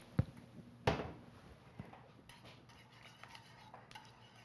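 A utensil stirs sour cream into warm milk in a kitchen pot, giving a few sharp clinks against the metal followed by softer, scattered scraping taps, fairly close and with no talking.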